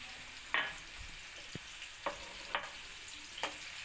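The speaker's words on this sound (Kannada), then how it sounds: "ನೀಟಾಗಿ ಒಂದು ಸೌಟನ್ನ ತಗೊಂಡು ಫ್ರೈ ಮಾಡ್ಕೊಳ್ಳುವ." Crushed onion and garlic fry in oil while a ladle stirs, with a quiet sizzle and several soft scraping strokes at irregular intervals.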